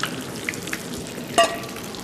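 Potatoes frying in hot oil in a pan give a steady, soft crackling sizzle, close up, with one brief sharper spatter near the middle and no voices.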